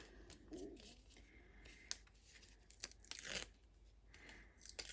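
Backing paper peels off adhesive strips on a handmade Stampin' Up Halloween card, a few quiet crinkly tearing and rustling sounds with small taps in between, close up.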